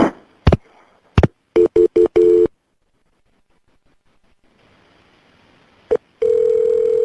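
A series of clipped telephone tones and clicks sound during a 911 call transfer, followed by a quiet line hiss and then a sustained steady tone, loud and close.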